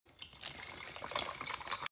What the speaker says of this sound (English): Now I'm gonna add in that second water bottle.